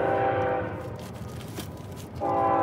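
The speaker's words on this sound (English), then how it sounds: "I'm sorry about the train." A train passes close by with its horn sounding in long steady blasts at the start and again at the end, and a rumbling rail roar fills the gap between them. No voices are heard.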